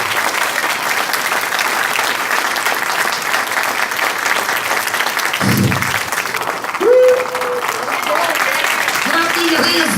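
Sustained audience applause fills an awards ceremony hall at the 2016 Champions of Recovery Awards, loud and steady throughout, with a voice speaking over the clapping and a brief cheer near the end.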